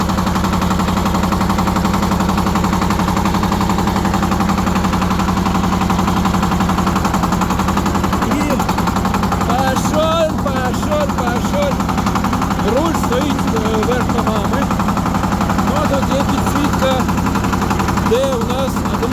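A small 24 hp tractor engine running after starting, a loud, steady, rapid diesel clatter that continues throughout, with a voice talking over it.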